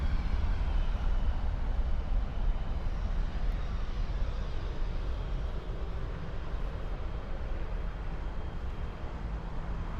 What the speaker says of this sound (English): 380 comes in from Emirates.